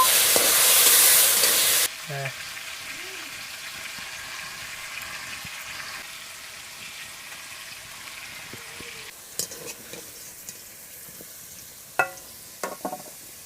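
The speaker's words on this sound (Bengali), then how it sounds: "এবার ভালো করে আলুটা ভেজে নেব" Potatoes fry in oil with salt and turmeric: a loud hiss for the first two seconds, easing to a softer steady sizzle with a few sharp utensil clinks near the end.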